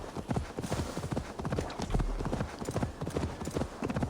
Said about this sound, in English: Come on, stupid horse. You're too slow sometimes.